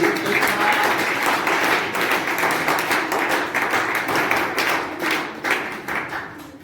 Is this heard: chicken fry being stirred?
no